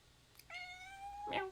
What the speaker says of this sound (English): I do have Lexical Cat